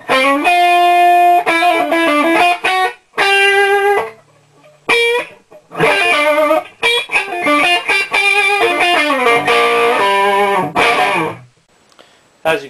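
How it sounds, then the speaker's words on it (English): Electric guitar on the neck pickup driven through a modded Nomad Stage II distortion pedal set for bluesy grind, loud sustained chords and bends with brief pauses between phrases. "As you can see with the soak on 3, it gets a good bluesy grind going"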